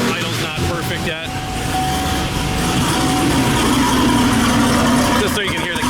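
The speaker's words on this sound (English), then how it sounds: "Just so you can hear the cam." Procharged fifth-generation Chevrolet Camaro SS with an aftermarket cam, pushrods and trunnions, idling with a lumpy, uneven lope while still imperfectly tuned; the engine rumbles up close and steadily throughout.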